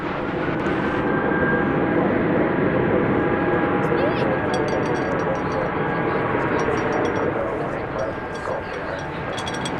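Spirit Airlines Airbus A320 jet airliner bound for Las Vegas at DFW Airport, a loud, steady jet engine roar that holds close for most of the clip and eases slightly near the end.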